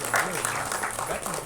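An audience claps at an album song screening festival held by a directors club, a steady patter of applause heard under a person speaking.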